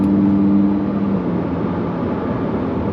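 A Lamborghini pulls away in Strada street mode with its exhaust valves closed, a muted steady engine drone and a brief tone that fades early, heard from inside the cabin with no one speaking.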